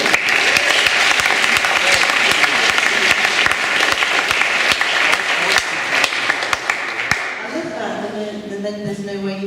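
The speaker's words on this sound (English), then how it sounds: "I think that needs a round of applause." A seminar audience breaks into a round of applause, loud dense clapping that fades after about seven seconds into quieter sounds and talking voices.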